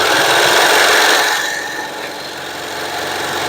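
A serger sewing machine runs fast along the edge of fabric for a circle skirt, a loud dense whirring buzz that eases slightly after a second or so and then holds steady, with no voices.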